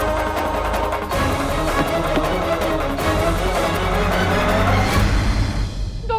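A car driven fast in an urgent dash, its engine and road roar holding loud and continuous throughout, with no voices.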